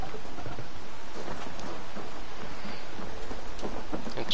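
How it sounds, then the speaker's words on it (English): Steady video game rain pours down while low rumbles of thunder roll underneath, continuous and fairly close, with no voices. "It's raining."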